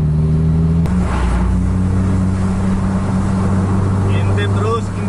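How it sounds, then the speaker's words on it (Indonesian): Racing motorcycles with loud, sustained engine drone close by, steady and dense throughout, from a drag or street race at Harapan Indah where a vehicle fails to overtake; a voice talks over it. "Ada kendaraan gagal overtake."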